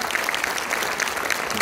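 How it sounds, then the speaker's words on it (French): Audience applauding steadily at a film premiere screening in Orléans, a dense, continuous patter of many hands clapping at moderate volume throughout, with no voices over it. "qu'on applaudit très fort"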